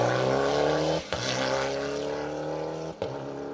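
A Honda rally car, number 46, drives on an asphalt rally stage, engine holding a steady loud drone with two brief sharp dips as it shifts gear, heard alone.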